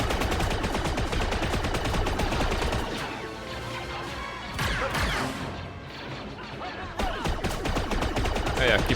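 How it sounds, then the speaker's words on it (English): Gunfire rattles in Star Wars Outlaws, dense bursts of rapid shots and crashing impacts during a firefight, loud and continuous with a brief lull midway before the shooting picks up again. "keep shooting at him"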